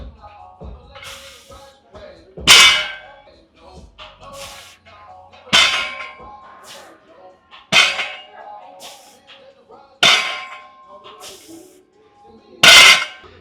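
Wagon wheel weight plates on a barbell clang loudly over and over at roughly two-second intervals in a gym, each hit ringing briefly, with quieter shuffling and speech between them.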